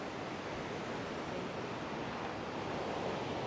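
The Laumentar waterfall in Laumentar Canyon roars steadily nearby, a dense, unbroken rush of falling water with no other sounds.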